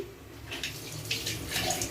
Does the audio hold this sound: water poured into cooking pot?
yes